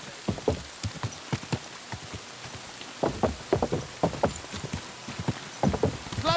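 Horse hooves clopping through rain in the video game Kingdom Come Deliverance 2, a steady patter of rain under bursts of close, rhythmic hoof strikes that come in clusters and then ease off.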